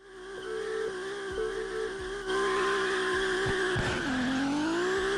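Race cars from a Japanese street racing video game with car customization, engines droning steadily with a pitch shift and tire squeal near the end, loud and continuous with no talk.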